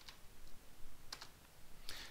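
Keys on a computer keyboard tap out a command in a few quiet, scattered clicks, with short bursts separated by pauses and no voice over them.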